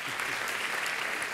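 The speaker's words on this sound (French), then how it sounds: "On peut les applaudir, je crois." Theatre audience clapping at a season presentation, a brief steady burst of dense applause heard alone.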